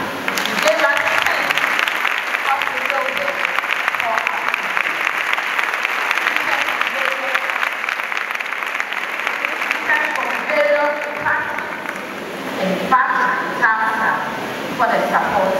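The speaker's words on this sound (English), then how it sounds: "students who need to clap" An audience at a girls' senior high school speech and prize giving day keeps up sustained, dense applause, with cheering and a few voices mixed in, loud and continuous across the whole stretch.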